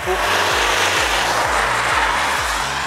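A car passes by on a road, heard as a loud, steady broadband rush of engine and tire noise over about three seconds.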